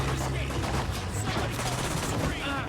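Rapid, continuous bursts of gunfire in the video game Quantum Break, a dense crackling fusillade close and loud, with a voice talking over it.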